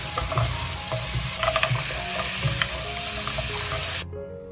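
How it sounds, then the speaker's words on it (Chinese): Crab stir-fried in a pan with soy sauce and cooking wine, a continuous sizzle with rhythmic scraping and clattering of a spatula against the pan before the sound cuts off. "再加入2勺生抽， 半勺老抽上色，一点点盐，翻炒均匀。"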